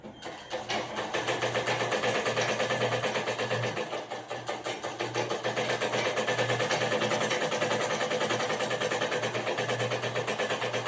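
A sewing machine stitches a blouse patti with a steady, loud, continuous mechanical whir and rapid needle clatter, briefly easing off near the four-second mark before resuming at a constant pace with no talk.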